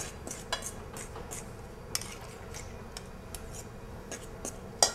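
A utensil stirs pie crust dough in a bowl with faint scraping and light clinks against the bowl's side, soft and intermittent, ending with a sharper knock.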